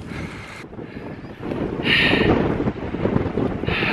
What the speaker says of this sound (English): That wind is just unbearable.